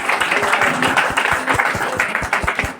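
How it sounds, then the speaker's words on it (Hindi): Audience clapping at a Vikasika Diwas 2024 gathering after a heartfelt song performance, a steady moderate patter of many hands with distinct individual claps standing out. "एक बार लोकेश शुक्ल के तालियां मिलेगा"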